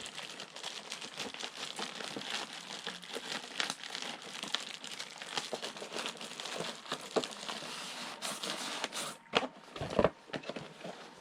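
Plastic toy packaging for an Optimus Prime figure crinkles and crackles continuously as it is folded back together, close and fairly loud, with a few sharper handling knocks near the end.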